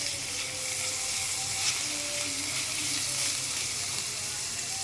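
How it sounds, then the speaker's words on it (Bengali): Chopped onion, garlic and ginger fry together in oil in a wok, giving a steady, even hiss that holds at a constant level throughout. "পেঁয়াজ রসুন আদা একসঙ্গে পেঁয়াজ কুচির সাথে ভাজা হয়ে গেছে।"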